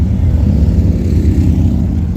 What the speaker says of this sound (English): Revving the engine is just, I hate it.